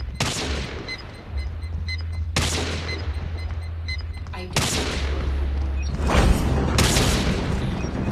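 Sniper gunfire rings out in four loud, evenly spaced booming shots about two seconds apart, each with a sharp crack and a long rumbling tail over a low steady drone.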